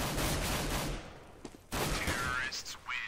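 Bursts of rapid submachine-gun fire from an MP5 ring out on the de_dust2_se map during a Counter-Strike match, loud and dense with a brief lull in the middle, while a commentator speaks over the shooting.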